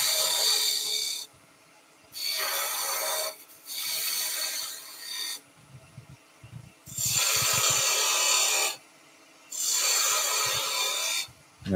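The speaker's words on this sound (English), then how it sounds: "Chance to use the skew. So I'm just putting a little chamfer in here." A skew chisel cuts a small chamfer on a piece spinning on a wood lathe for a toy spaceship, giving four long, loud bursts of scraping rasp split by quieter gaps with a low motor hum underneath.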